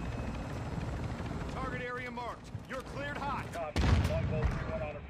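A helicopter in the video game Warzone thrums steadily in the background while a player talks excitedly over it, with a sudden burst of gunfire or impact near the end.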